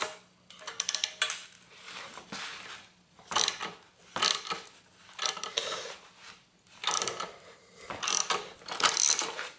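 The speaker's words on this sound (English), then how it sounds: "now I'm going to use my socket wrench here to start tightening this down." A socket wrench ratchets in repeated short bursts while tightening a crank arm puller on a bicycle crank with stripped threads, with close, clicking pawl sounds separated by brief pauses.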